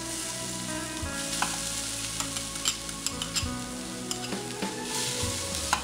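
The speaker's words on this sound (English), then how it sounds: "Fry these carrots well." Carrots fry in ghee in a pan, a steady close sizzle with occasional scraping taps from stirring, no voices.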